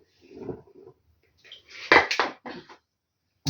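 Utensil scraping and clinking against a bowl as batter for bilyashi is stirred and sifted flour is added, several short bursts of clatter with pauses between, fairly close.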